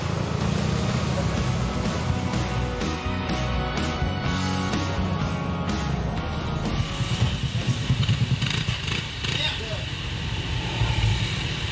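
Motorcycle engine running and revving in the rain, a continuous loud drone with shifting pitch, heard close, with talking mixed in over the engine noise.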